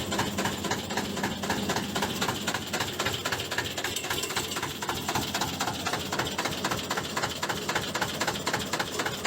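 A 70-year-old F2L514 two-cylinder diesel engine runs steadily with a fast, even mechanical knocking chug, loud and close, with no talk over it.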